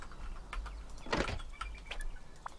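A metal garage door in the survival game Rust slides shut on a stone base, one short mechanical rattle and clunk near the middle, heard close and alone over a low steady game hum.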